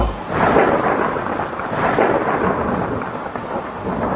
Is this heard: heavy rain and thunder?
yes